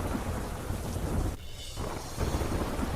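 Heavy monsoon rain pours steadily in Lonavala with low rumbling thunder rolling beneath it, a dense continuous wash that briefly thins midway before surging back, with no voices.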